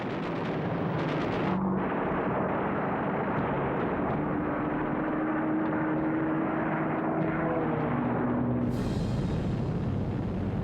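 The engines of a World War II US Air Force bomber roar in a dense, continuous drone that fills the whole stretch. A faint steady tone rises and falls within it, and a brighter rush comes near the end.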